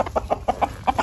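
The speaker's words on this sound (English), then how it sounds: "Chickens." Chickens cluck in quick, rhythmic bursts, about eight short close-up calls in a second, with faint farmyard background and no speech.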